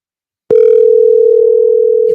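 An outgoing telephone call gives a loud, steady ringback tone that starts abruptly after half a second of silence and holds unbroken to the end.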